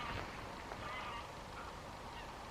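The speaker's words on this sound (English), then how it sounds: "It sounds like Canada geese." Canada geese honk in the distance, faint repeated calls over a low outdoor background during a walk.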